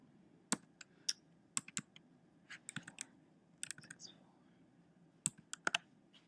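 Someone types an ISBN number on a computer keyboard. Quiet, irregular keystrokes click in short bursts and single taps with gaps between them, close and alone.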